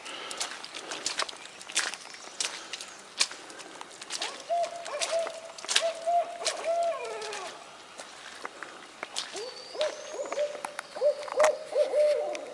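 Owls hooting in woodland, several drawn-out hoots repeating at a moderate distance amid soft footsteps and rustling on the trail.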